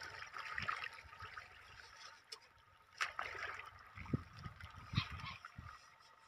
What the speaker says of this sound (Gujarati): અને અત્યારે આપણે આ વરિયારીમાં પાણી ચાલુ છે,